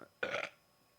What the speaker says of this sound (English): Oh, that burp does not want to come out.